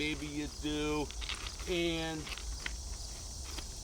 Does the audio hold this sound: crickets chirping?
yes